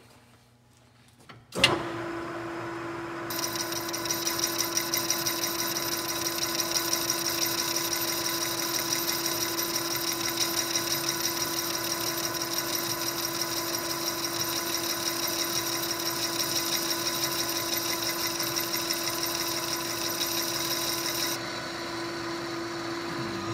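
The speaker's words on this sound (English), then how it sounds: "This is a long face cut." A metal lathe makes a long facing cut on a brake rotor mandrel, the tool cutting with a steady, loud machine whine and hum that starts abruptly and holds evenly for about twenty seconds.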